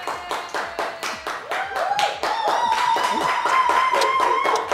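A group applauds a guest chef from Valencia, Spain, during a Spanish tortilla cooking session, with rhythmic, fairly close clapping that settles into a steady unified beat while a whistle or cheer-like tone rises midway.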